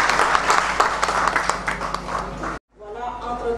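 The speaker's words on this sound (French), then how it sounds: "sous vos applaudissements." A press-conference crowd applauds steadily with dense clapping for a couple of seconds, then it cuts off briefly and resumes more softly with some voices.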